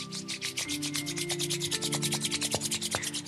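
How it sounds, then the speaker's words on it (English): Palms rubbed briskly together during gentle chair yoga for seniors, making a steady, fast, soft swishing friction rhythm up close, with quiet sustained tones in the background. "And rub your palm together."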